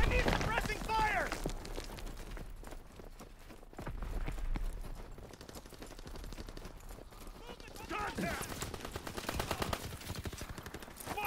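Rapid bursts of video-game gunfire from a Grease Gun and other weapons crackle throughout, with voices shouting near the start and again toward the end.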